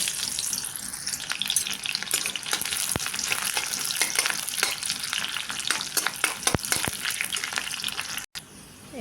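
Spice paste spluttering and sizzling in hot oil in a pan, a dense continuous crackle with sharp pops throughout and a brief break near the end, close up with no talking.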